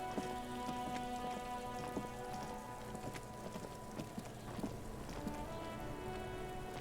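Steady rain patters on surfaces in the Disco Elysium game world, a dense continuous hiss with scattered droplet ticks and faint tonal ambience beneath, no voices.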